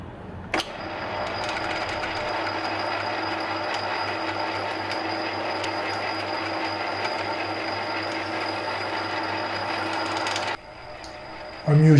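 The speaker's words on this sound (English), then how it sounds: "I'm using a carbide tip tool here to try and get a better finish on the internal thread" A lathe cuts an internal thread in a metal collar with a carbide-tipped tool, producing a steady, loud mechanical whir with a constant hum that runs for about ten seconds, then drops off abruptly near the end.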